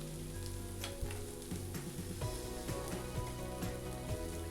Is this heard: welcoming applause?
no